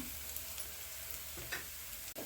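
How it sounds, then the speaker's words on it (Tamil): Sliced onions frying toward golden in a pan for spicy egg thokku, a steady close sizzle with a few soft stirring scrapes and no voices. "இது நல்லா கோல்டன் கலராக கொஞ்சம் வரட்டும் நம்மளுக்கு இந்த வெங்காயம்"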